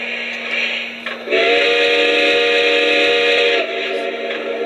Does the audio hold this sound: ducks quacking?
no